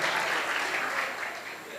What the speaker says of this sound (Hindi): मैं चाहता हूँ एक बार जोरदार तालियां अशोक भाऊ के लिए हम बजाएं